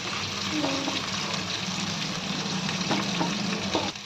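Coconut frying in a pan for a coconut, onion and tomato curry gives a steady close sizzle with faint scraping and stirring, and no voices.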